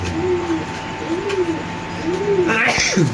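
Pigeons at a market coo in repeated low, rolling calls close by, about three in a row, while someone talks over them and brief rustling and scraping sounds come near the end.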